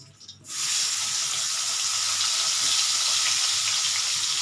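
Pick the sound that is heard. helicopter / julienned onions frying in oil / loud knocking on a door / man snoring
julienned onions frying in oil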